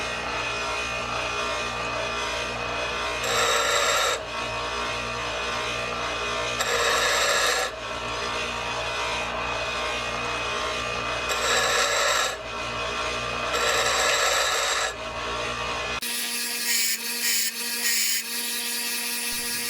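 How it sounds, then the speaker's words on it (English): Bench grinder grinding a motor fitting down to 17 millimeters: a steady high-pitched whine with repeated bursts of harsher rasping as the metal is pressed against the wheel, then a shift to a thinner, brighter grinding tone at the end. "I'm just gonna put it in my bench grinder"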